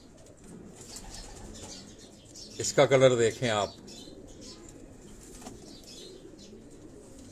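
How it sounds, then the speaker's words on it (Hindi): Pigeons on a rooftop in Karachi give a brief burst of wing flapping and soft cooing close by, with someone talking quietly over faint background noise. "ये मैं आपको कबूतर एक दिखा रहा हूँ"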